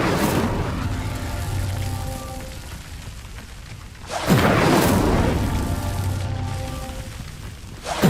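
An Incendio fire spell is cast twice in the video game Hogwarts Legacy, each time a loud roaring whoosh that swells and slowly fades, over a low ambient game backdrop.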